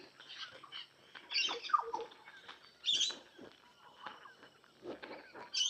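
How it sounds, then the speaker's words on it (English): Parrots along a walking path in Innisfail, Australia, give scattered chirps and squawks of moderate loudness over quiet outdoor background. "A lot of parrots and that around apparently."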